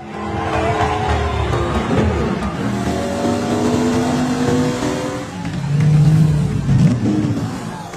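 Race cars, including Ferraris and Maseratis, compete on hot asphalt, their engines revving and droning loudly in overlapping passes with shifting pitch and a heavier surge near the end.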